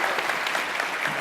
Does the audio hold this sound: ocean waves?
no